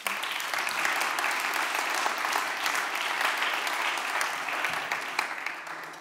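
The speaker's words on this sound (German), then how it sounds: "Bitte einen Applaus." Conference audience at the Bavarian digital summit CODEBAVARIA applauds a guest being introduced, a full, steady round of clapping that swells and tapers slightly toward the end.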